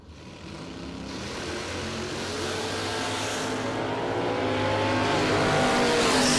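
Two drag race cars, a Maverick and a Monza, accelerating hard down the strip at a spring drag racing event. The engine roar builds steadily and loudly across the run, with rising harmonic tones and no talking.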